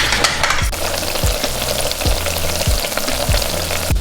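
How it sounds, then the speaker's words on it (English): Chillies, garlic and ginger fry in hot oil with a steady, close sizzle and crackle, broken by regular low knocks of stirring, with no voices. "So whilst they're sizzling away,"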